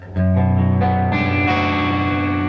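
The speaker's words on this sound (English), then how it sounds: "turn on that reverb" An electric guitar plays a few sustained chords that ring out with a lush, spacious reverb tail, loud and up close with no talking.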